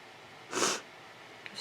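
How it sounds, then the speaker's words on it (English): A single short nasal sniffle or snort, close and fairly faint, against a quiet background. "Excuse my sniffling."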